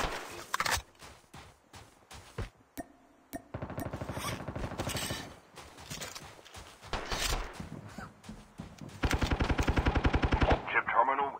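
Fennec submachine gun fire in a shooter game, rapid close bursts of full-auto rattle broken by short pauses, with one long sustained burst near the end and brief reload clicks between.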